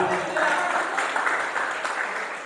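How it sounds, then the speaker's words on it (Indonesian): Church congregation applauding after a call for agreement, a steady dense wash of clapping that holds for the full stretch, with a voice or two faintly mixed in. "Yang setuju tepuk tangan."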